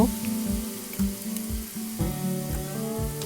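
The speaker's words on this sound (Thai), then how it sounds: "ผัดทุกอย่างให้เข้ากันดีนะคะ" Carrots and light soy sauce being stir-fried in a pan, with the stirring of a utensil against the pan landing roughly every half second over a steady, close sizzle; no one speaks.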